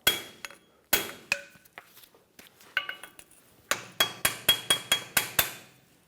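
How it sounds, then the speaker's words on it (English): Metallic hammer taps on a pry bar against the front wheel hub cap of a Ford E-350 Super Duty van, a few scattered strikes then a quick run of sharp ringing knocks, close and clear. "Take a pry bar and a hammer, tap it off."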